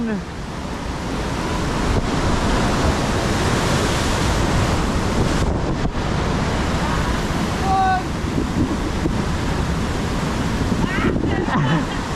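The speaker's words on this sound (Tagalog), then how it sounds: "Solid yung alon!" Ocean waves surge and wash around a small fishing boat during jig fishing, a steady roar mixed with wind buffeting the microphone, with brief faint tones and a voice or two in the background.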